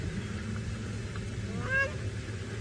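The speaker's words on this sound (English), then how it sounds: "That funny wow noise you can hear, some crowned cranes that have decided to come in and help the neighborhood watch by letting off their alarm call" Grey crowned cranes give an alarm call during a sunrise safari drive, a faint, distant honking "wow" note heard briefly over a low background hum.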